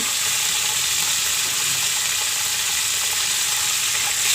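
Hot oil sizzles steadily in a pan as cooking of fish heads and tails with Malabar spinach begins, a dense, constant hiss that runs loud and unbroken throughout.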